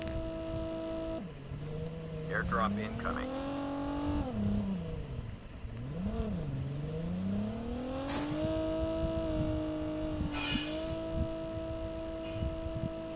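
A vehicle in a battle royale video game pulls up with a rising engine drone that dips and swells as it maneuvers, then revs away, layered with game music and an announcer voice.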